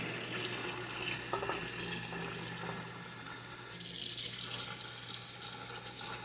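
Tap water runs steadily into a kitchen sink as cooked noodles are rinsed in cold water. The flow is soft, continuous and fairly close, and no one speaks over it.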